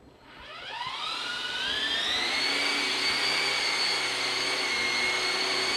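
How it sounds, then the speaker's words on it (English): Small RC helicopter spooling up from the ground into a hover, a steady loud whine that rises in pitch during the first second and then holds constant and close. "gently try to keep the helicopter hovering in the same spot and same orientation above the ground for 4 seconds"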